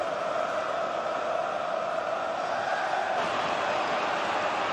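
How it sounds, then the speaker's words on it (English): A football stadium crowd roars steadily in the closing seconds of a fifth-round cup replay, a broad, continuous distant wash of voices with no individual words. "Crowd wanting one last attack in the last few seconds of this fifth-round replay"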